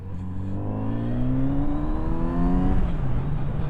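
A Kawasaki Z900RS motorcycle engine pulls hard on country lanes, revs climbing steadily through a smooth rising tone before easing off, close and loud with no talk.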